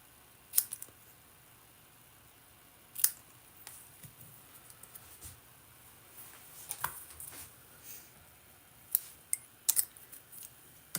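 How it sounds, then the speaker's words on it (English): Paper snips angle-cutting cardstock for a card, heard as sparse, quiet, sharp snipping clicks spaced irregularly across a hushed room, with no talking. "I'll take my paper snips and just angle cut."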